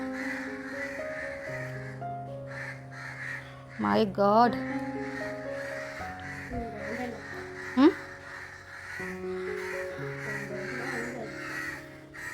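Crows caw a few times in short bursts amid background hum, with a person briefly exclaiming in between.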